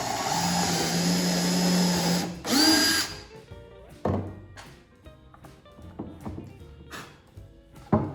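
A power drill drives a screw into a pre-drilled hole in a bluebird box kit with a loud, steady whine that rises, then stops. Knocks and clatters of handling the wood follow.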